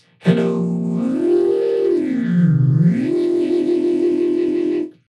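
A voice run through an Ableton vocoder with bandpass filter bands, producing a buzzy, robotic synthetic tone whose pitch glides down and back up, loud and sustained for several seconds.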